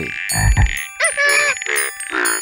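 Animated frogs in a Curious George game croak in turn, with a deep, loud opening croak followed by higher, bouncy sung croaks and light bell-like tones.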